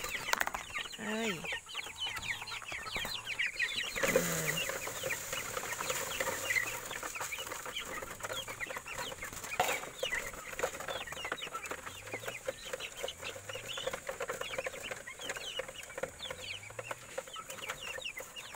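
Broiler and native chickens cluck on a farm, a dense steady chorus of close and distant clucks with occasional louder squawks throughout, while a voice briefly murmurs in the background.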